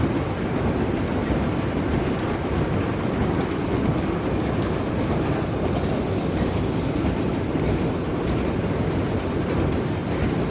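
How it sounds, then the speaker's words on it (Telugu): Rice mill machines running while processing paddy into rice, a steady, dense, continuous mechanical roar with a constant rumble, loud and unbroken throughout with no voices. "ఇక్కడ మిషన్లు ఆడుతూ ఉంటాయి"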